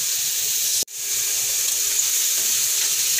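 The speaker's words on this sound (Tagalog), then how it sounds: "Maganda kasi pag nagigisa muna guys yung ating liver" Pork liver sautéing in cooking oil for menudo, a loud steady sizzle and hiss that cuts out for a moment, then resumes just as strongly, with no talking.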